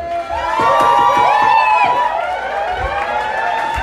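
A crowd at an underground hip-hop show cheers, with shrill rising whistles and whoops over a dense roar of voices, loudest early and then tapering off.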